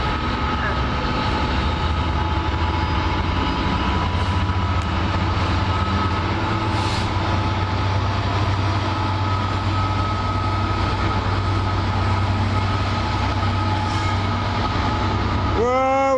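A train rolls through Leicester station on the freight line: a loud, steady rumble of engine and wagons that holds close for the whole stretch, with a brief whistle-like tone near the end.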